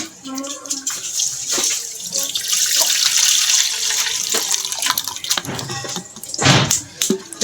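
Date palm sap is strained through a filter, making a continuous splashing trickle like water from a tap, with drips and a louder pour near the end. Some voices can be heard faintly underneath.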